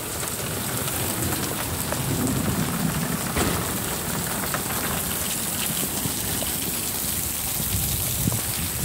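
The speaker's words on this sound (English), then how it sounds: "appreciate life's simple pleasures from nature," Heavy summer rain pours down steadily outdoors, a dense, unbroken hiss of drops striking surfaces all around, close and constant with no voices.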